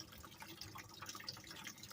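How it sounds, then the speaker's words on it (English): Acid liquid trickling and dribbling out through a filter holding chips from computer boards, a faint steady wet pattering with scattered drips throughout. "It's pouring out. It's taking its time."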